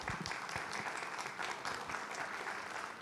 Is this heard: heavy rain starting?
no